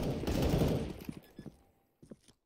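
Galil and UMP fire in Counter-Strike on the Cache map during a competitive match, a dense, loud burst of rapid shots that breaks into a few scattered bursts before falling quiet.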